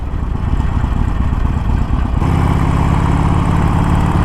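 Harley-Davidson 2021 Iron Sportster 1200 engine pulling hard in first gear, a close, loud rumbling V-twin that shifts to a steadier, higher droning tone partway through.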